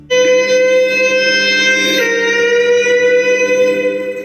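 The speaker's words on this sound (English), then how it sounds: "It is possible that you might hear the fire alarm," A fire alarm at the Supreme Court sounds inside the building, a loud steady electronic tone with harsh bright harmonics that holds for about four seconds, with no talking.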